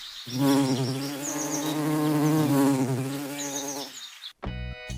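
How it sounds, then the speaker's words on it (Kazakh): Bees buzz in a loud, steady, close drone for about four seconds, then it cuts off abruptly. "Аралар осындай дыбыс шығарады."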